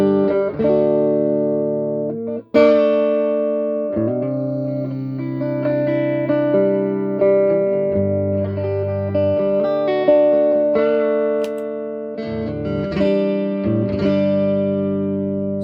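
Clean electric guitar chords and single notes on the neck pickup ring out through a Fender Champion 110 amp, warm and sustained, played steadily without talking.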